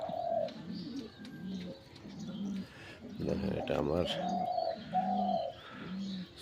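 Domestic pigeons cooing in a small rooftop loft in the morning, with repeated low rolling coos pulsing close by, mixed with a few chirps, while someone talks over them.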